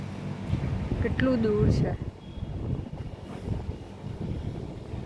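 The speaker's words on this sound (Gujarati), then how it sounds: "જોરદાર વાવાઝોડું ફૂંકાયું છે." A strong windstorm gusts through nearby trees, a broad rushing roar buffeting the microphone throughout, with a person speaking over it near the start.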